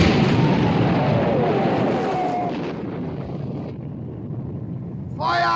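Naval guns fire in the 1960 war film Sink the Bismarck: a dense, roaring barrage of blasts and rumble with wind-like noise and sea spray, continuous and loud before easing, with a shouted voice breaking in at the end.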